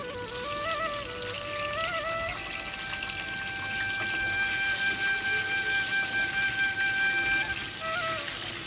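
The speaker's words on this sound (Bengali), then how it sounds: "সেদ্ধ করা ডিমগুলোতে নুন হলুদ মাখিয়ে তেলের মধ্যে ছেড়ে দেব।" Boiled eggs coated in salt and turmeric fry in hot mustard oil, giving a steady, close hissing sizzle throughout while a melodic tone plays over it.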